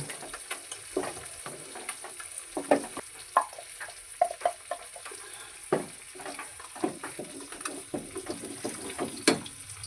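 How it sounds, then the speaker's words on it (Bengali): A spoon stirs thick amla candy paste in a hot pan, producing irregular scraping and soft sizzling strokes with a steady background hiss, no talking. "দেখো আমি পেস্টটা আস্তে আস্তে এর মধ্যে দিয়ে দিচ্ছি এটাকে দিয়ে এবারে নাড়াবো"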